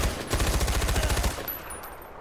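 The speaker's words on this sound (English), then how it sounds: "Get on the mounted gun!" Mounted machine gun firing in the video game Far Cry 4, a rapid continuous burst of heavy rhythmic shots lasting about a second, then fading into a low rumble and faint background noise.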